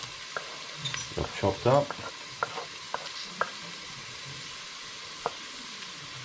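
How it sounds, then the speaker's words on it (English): Chopped celery and carrot sauté gently in a pan for an Italian cotechino and lentil dish, a soft sizzle with spoon stirring and scraping, brief talk in between. "And we'll just gently saute them just for a minute or so."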